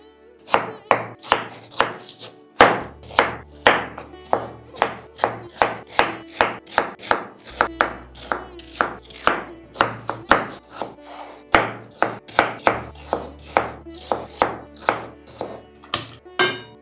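Knife chopping watermelon rind into pieces on a board, a brisk regular run of sharp crisp thuds, close and loud, repeating steadily throughout with no talk.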